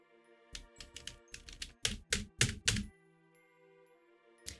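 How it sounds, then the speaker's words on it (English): Hands smacking down on a computer keyboard in a quick burst of loud, clattering thumps, then a pause before one final slam, with faint steady music playing behind. "I tried to smack my hands on the keyboard"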